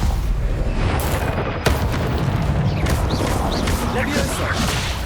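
Stupefy spell impacts in Hogwarts Legacy land amid dense, continuous combat noise, with a sharp broadband crack standing out near the middle and further whooshing hits around it, loud and busy throughout.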